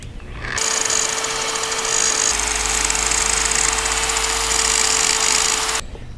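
Harbor Freight Warrior 7-inch variable speed sander grinding rust off metal, a loud steady high-pitched whine that starts abruptly, runs continuously close to the microphone for several seconds, then cuts off.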